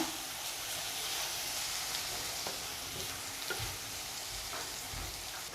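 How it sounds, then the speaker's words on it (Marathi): Masala with turmeric sautéing in a pan for a wild karatule (kartula) vegetable dish, giving a steady close sizzle with soft scraping stirs throughout and no talking. "एक चमचा आणि थोडंसं जरासा असा मसाला घालून घ्यायचा आणि छान असं परतून घेऊया"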